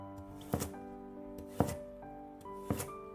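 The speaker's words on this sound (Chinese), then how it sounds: "半根去皮的胡萝卜先斜刀切成段" Knife chopping a peeled carrot half into diagonal segments on a cutting board, three distinct close thuds about a second apart over a faint background hum.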